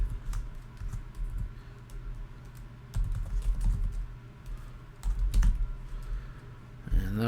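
Someone types a password on a computer keyboard, close, crisp key clicks in uneven bursts with short pauses between them and a louder clack near the end.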